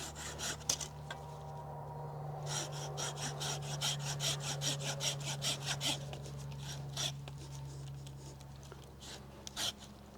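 A fig tree branch is cut back during low cordon pruning with rapid, rasping saw strokes that come in a rhythmic run, pause briefly, then resume close up against a low steady hum.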